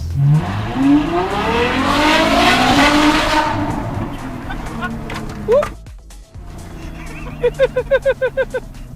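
A widebody, decatted Ferrari F12 with an F1-style exhaust revs hard up and down, loud and close. The engine sweeps high, then drops away, and a few sharp pops follow. Voices are heard alongside the engine.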